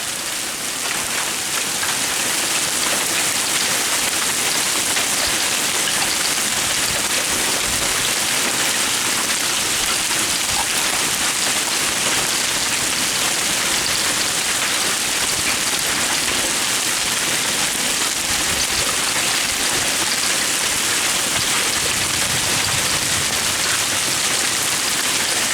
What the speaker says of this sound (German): Und das zweite Mal Hagel.